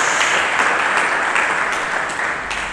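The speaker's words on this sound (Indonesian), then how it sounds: "Mari kita berikan tepuk tangan yang meriah bagi Yesus Kristus." Loud, sustained applause from a church congregation at a sermon, a thick steady wash of many hands clapping close and full for the whole stretch, with no talk over it.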